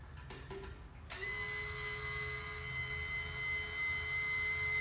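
A Sears electric hitch motor hums steadily as the hitch lowers toward a flat cinder block, starting abruptly after a quiet moment and holding a constant whine throughout.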